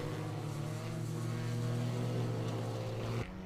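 A TCR touring race car at Misano running off the track onto gravel, its engine a loud, steady harmonic drone close by before cutting off abruptly near the end.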